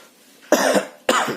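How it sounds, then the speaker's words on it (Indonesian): Two sharp coughs close to the microphone, about half a second apart, after a moment of quiet. "Maaf ya, sambil batuk."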